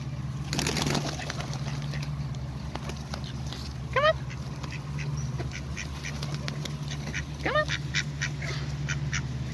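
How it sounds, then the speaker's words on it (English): Scattered wild duck quacks at moderate distance, a couple of louder rising calls among softer chatter and clicks over a steady low hum. "Oh, and more duckies in the water."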